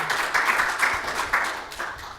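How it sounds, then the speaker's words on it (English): A conference audience applauds a speaker being introduced before a talk on designing an open-source hardware music tracker. The clapping is sustained and crowded at moderate distance and fades toward the end. "Round of applause."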